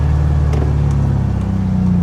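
A 1969 VW Beetle, brought back after years off the road, runs on its first drive with a steady, loud, close engine drone and low rumble.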